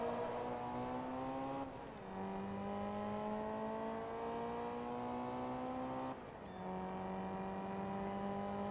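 A race car engine in the video game Forza Motorsport 2 drones loudly and steadily with strong harmonic whine, dropping pitch briefly twice as it shifts gears, then climbing again.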